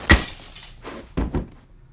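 In a scene from the 2020 horror film Host, a glass bottle smashes over someone with one sharp, loud shattering crack, followed by a muffled thud and two heavy knocking impacts, close and without talk.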